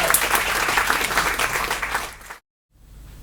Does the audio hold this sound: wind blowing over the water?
no